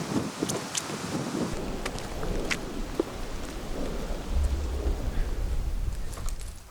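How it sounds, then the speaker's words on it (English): Steady outdoor rain hisses along with rumbling thunder that swells toward the end, plus wind buffeting the microphone, loud and continuous with no talking. "Okay, it's raining"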